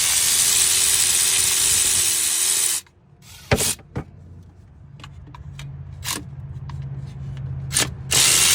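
A ratchet working hub cap bolts loose on a semi truck: a loud continuous whir of an air tool first, then after a pause several short sharp clicks and mechanical bursts close by.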